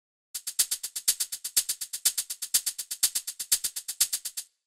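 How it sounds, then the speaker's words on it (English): Afro house shaker sample playing steady sixteenth notes, bright and hissy, with volume automation and sidechain ducking making each hit swell and dip in a pumping groove, alone without voices. "So that's providing like a nice strong rhythm for the shaker."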